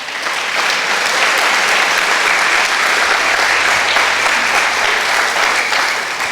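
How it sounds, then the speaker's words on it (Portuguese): Church congregation applauding during an evening service, a loud, continuous roar of many hands clapping that holds steady across the whole stretch. "E pode aplaudir ao Senhor?"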